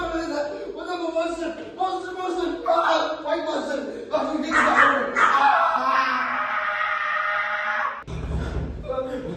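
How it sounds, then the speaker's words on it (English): A dog named Luna barks and yips in short bursts, then whimpers, while people chat and laugh over it in a room. "It's just a dog."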